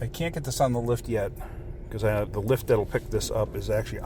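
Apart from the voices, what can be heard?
None of the usual background noises is heard.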